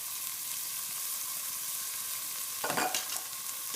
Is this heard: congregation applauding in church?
no